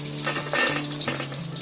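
Chicken pieces deep-frying in hot oil in a wok give a close, continuous crackling sizzle, with a faint steady hum underneath and bursts of louder spattering across the short stretch.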